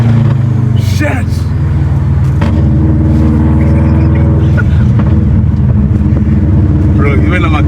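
A Subaru GVB rally car in Kenya rumbles loudly and close, its engine droning and revving unevenly throughout, with people talking and shouting over it.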